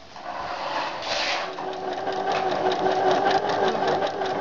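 A sewing machine runs steadily up close, stitching a decorative outer seam through doubled fabric for the bow on a doll skirt, with a rapid, even mechanical whir and clatter.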